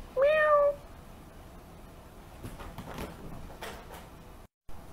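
Person imitating a cat meow, one short rising-falling meow near the start, followed by faint soft rustling and shuffling in a quiet room.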